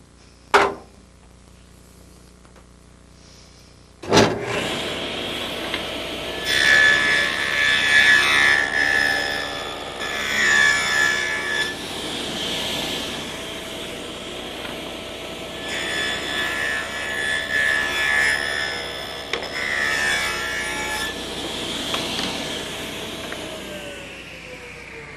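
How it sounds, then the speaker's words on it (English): A table saw cuts wood stock for picture frames: a sharp start, then a steady whining cut roughly twenty seconds long with a rough, grinding texture. The cut swells and eases in two passes and sounds close and loud. "The first cut is the saw curve cut, and I prepared my saw so that I can make that one cut and then turn the stock around and make the second."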